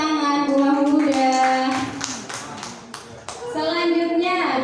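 Students in an Indonesian school setting clap their hands in a quick rhythmic pattern while young voices chant together, the claps close and steady before a short dip and a strong return.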